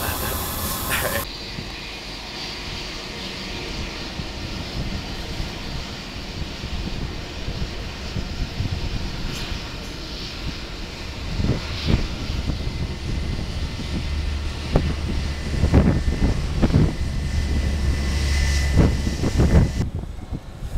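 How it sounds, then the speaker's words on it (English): A small passenger plane flies over the mountains of New Zealand's South Island, heard from inside the cabin as a steady engine drone and airflow hiss, swelling louder near the end. "I just landed on the South Island of New Zealand on a kind of little plane right over those mountains"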